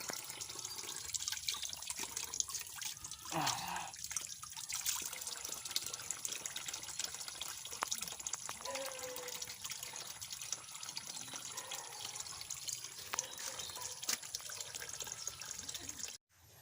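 Water trickles and splashes steadily from a small improvised water line fed from a mountain source, a continuous bright gurgling stream with occasional drips, close by and uninterrupted.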